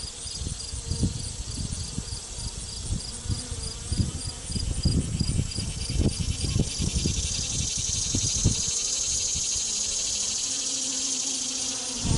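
Honey bees buzz steadily throughout a hive inspection of a failing, queenless colony with few bees left in the box, a dense close hum broken by soft knocks and handling thumps.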